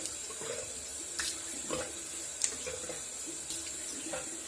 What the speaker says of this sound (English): let me throw a little water on my face